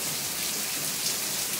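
Steady rain falls on a backyard in northeastern Brazil, a dense, even hiss of drops on surfaces that stays constant and fairly close with no voices over it.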